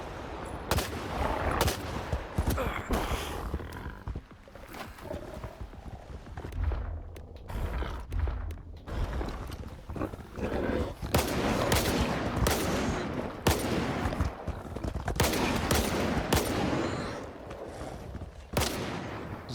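Gunfire from a shotgun in the game Stalker 2, loud blasts and sharp bursts recurring through a dense, busy battle mix with mechanical clatter and creaks, no voices.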